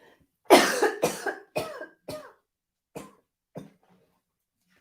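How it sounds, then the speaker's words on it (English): A person coughs repeatedly, a loud burst of several harsh coughs tapering into weaker, spaced-out ones, near and alone with no talking. "I'm just going to cough."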